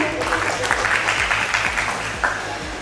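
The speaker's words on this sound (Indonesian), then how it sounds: "Boleh kita berikan tepuk tangan yang meriah?" Audience applause at a film screenwriting workshop at Taman Budaya in West Sumatra, a dense steady patter of many hands clapping throughout, with a faint voice or murmur underneath.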